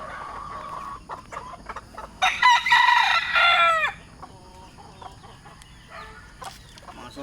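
Chickens cluck softly at a farm while a rooster lets out one loud, close crow in the middle, with scattered clucks and calls before and after.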